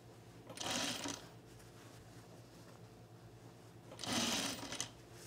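A sewing machine stitching three pieces of a men's tropical shirt, two short whirring bursts of running stitches about three seconds apart, close by and fairly quiet, with low hum in between.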